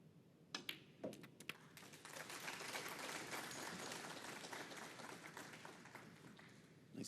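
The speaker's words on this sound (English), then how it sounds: "Nice appreciation from the crowd." A snooker crowd at the Xi'an Grand Prix 2024 applauds, O'Sullivan versus Selt. A few isolated taps come first, then a dense, steady patter of clapping from many hands that fades slightly near the end.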